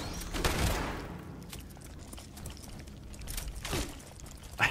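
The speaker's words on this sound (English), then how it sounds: "Shotgun out, of course, to finish up the job." Shotgun blasts in the video game Fallout 76, two heavy booming shots a few seconds apart over low background game ambience.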